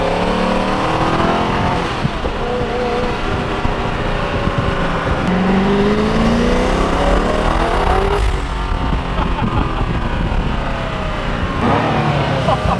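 A Koenigsegg supercar pulling hard outside the Burj Al Arab, its engine roaring loud and close as revs climb and fall through rising, sweeping tones with brief shift breaks, dominating throughout.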